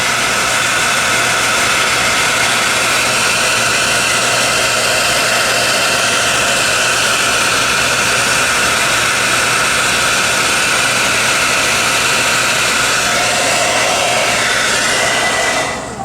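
A hair dryer blows steadily on the painted buttons of a custom action figure, a loud continuous roaring hiss held for about sixteen seconds with no talk, cutting off at the very end.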